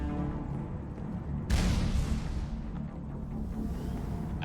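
Explosions in the video game Mass Effect, a sudden loud boom at about 1.5 s that rolls into a broad rumble over continuous game noise.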